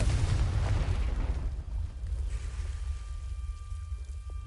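A Confringo fire spell in Hogwarts Legacy bursts with a loud, deep boom right at the start, then rumbles and fades into a low tail.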